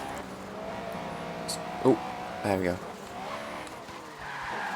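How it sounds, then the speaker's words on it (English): A Honda Civic spinning its wheels in Forza Horizon 3, with steady engine drone and brief tire squeal bursts, while someone talks briefly over it. "We're still wheel spinning."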